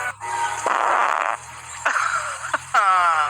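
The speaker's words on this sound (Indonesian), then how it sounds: "itu suara kentut" A string of loud, buzzy fart noises in several bursts of varying length, close up, with a few short sharp sounds between them.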